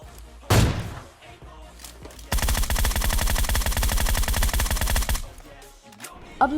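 PUBG Mobile gunfire: one sharp, loud shot early on, then a sustained rapid burst of automatic fire lasting about three seconds, close and forceful, with no talk.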